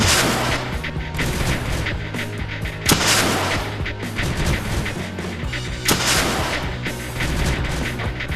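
Weapons fire repeatedly at an incoming probe in the strategy game Creeper World 2, a dense, continuous barrage of crackling shots and booms with a few heavier blasts standing out, loud and without any talk.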